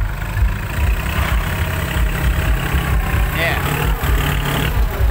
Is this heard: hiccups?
no